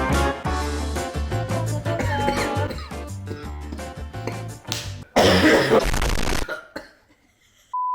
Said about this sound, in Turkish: Şu anda konuşmadığın halde öksürüyorsun.